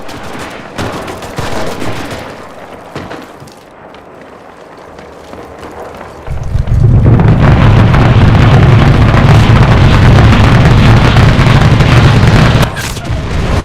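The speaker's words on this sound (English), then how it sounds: "Airstrike." An airstrike in the video game Enlisted: scattered gunshots and thuds give way to a huge, sustained roar of explosions that rumbles loud for several seconds before cutting off, with a voice speaking early on.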